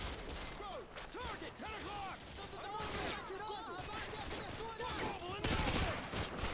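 Dense, rattling gunfire from a firefight in Call of Duty: Modern Warfare 2 continues throughout, mixed with voices talking over the shooting and a louder burst near the end.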